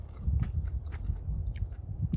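Crunchy food, crisp like bacon, is bitten and chewed up close outdoors at a campsite, giving a steady run of small crackling crunches over low background rumble.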